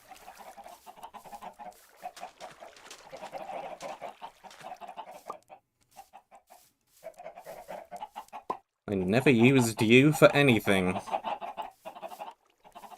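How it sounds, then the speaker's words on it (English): Chickens cluck loudly in the Minecraft game for a few seconds near the end, following stretches of a person talking, and overlapping briefly with more speech. "Chickens."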